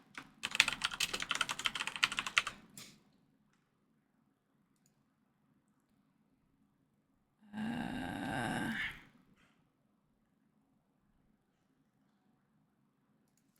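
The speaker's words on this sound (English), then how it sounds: "Typing is so much hard work." Two bursts of typing on a computer keyboard, a dense rapid clatter for about two seconds, then silence, then a shorter, brighter flurry of keystrokes, close and fairly quiet over a low background hum.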